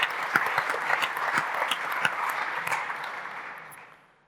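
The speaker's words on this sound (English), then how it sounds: "Big applause to Michael." An audience at an industry panel on modular automation applauds Michael with dense, steady clapping that holds for a few seconds and then fades away.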